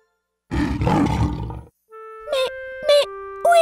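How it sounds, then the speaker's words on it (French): A lion roars in a French children's cartoon about an animal train: one loud, gruff roar lasting about a second, then bright whistle-like toots. "C'est un lion."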